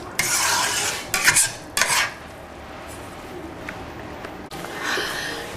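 A spoon stirs chana dal halwa frying in ghee with sugar and milk in a pan, giving scraping strokes and soft clinks over a low sizzle, with a few louder bursts early on.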